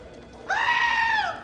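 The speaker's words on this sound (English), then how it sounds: "he hired a security goat to protect the data shed" A goat gives a single clear, drawn-out bleat lasting under a second, close and fairly loud against a quiet background.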